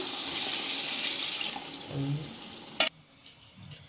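Water streams steadily into a pot of mushroom biryani, a bright continuous splashing that runs for almost three seconds before ending with a sharp clunk, leaving quiet kitchen background.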